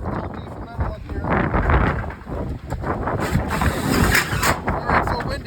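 Strong wind gusting into a phone microphone outdoors at a peacock enclosure under construction, a steady roaring rumble with people talking over it.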